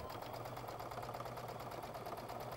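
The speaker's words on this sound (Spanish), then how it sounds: "bajamos nuestra aguja y comenzamos a coser." Sewing machine running steadily at speed while quilting a patchwork piece, a close, even mechanical whirr with fast regular needle ticking and no pauses.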